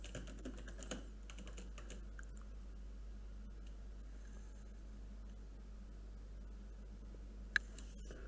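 Soft, scattered keystrokes on a computer keyboard while someone writes code, quiet and close, in short bursts with pauses and no talking.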